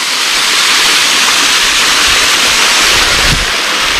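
Rushing water from a waterfall roars loudly and continuously up close, a dense broadband hiss with no talk over it.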